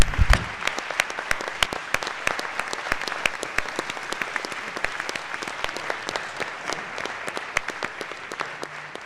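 Applause in a state House chamber for visiting guests from Fort Meade, a sustained round of sharp, distinct claps from a moderate crowd that continues throughout and slowly thins.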